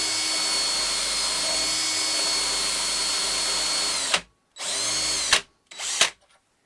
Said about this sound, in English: I'm still using the 8mm drill bit.